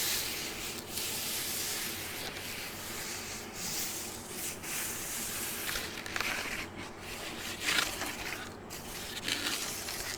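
Close, continuous scratching and rubbing across a corrugated cardboard cat scratching board, a dense papery rasp with small uneven surges, with no voice over it.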